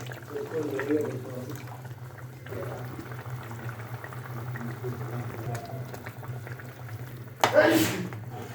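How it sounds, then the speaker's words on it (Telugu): A pan of curry with turmeric and salt bubbles and simmers steadily, then a sudden rush of water is poured in near the end; a voice talks quietly underneath. "కొద్దిగా వాటర్ యాడ్ చేసుకోవాలి"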